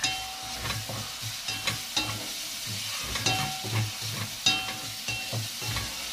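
Garlic and onions frying in a pan give a continuous sizzle, broken by regular scraping stirs of a utensil, moderately close with no talking.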